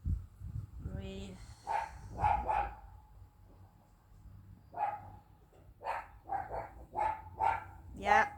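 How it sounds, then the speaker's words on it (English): A dog barks several times in short bursts, moderately near, during a yoga and relaxation session, with an instructor's calm voice between the barks. "Yeah, the dog agrees with me."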